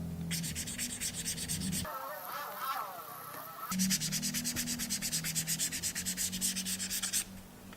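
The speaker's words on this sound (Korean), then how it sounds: "사포로 면을 한 번 더 다듬어 주시고" Close, rhythmic strokes of 1000-grit sandpaper scrape back and forth on a leather edge, pause briefly for a soft rustle, then resume in a fast steady rhythm.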